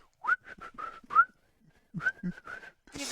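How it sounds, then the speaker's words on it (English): A person whistles a short melodic tune in two phrases separated by a brief pause, close and clear with no talking. "I will start whistling."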